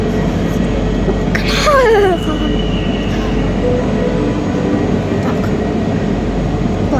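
A train rumbles steadily past, with a brief descending squeal of wheels or brakes early on, continuous and fairly close.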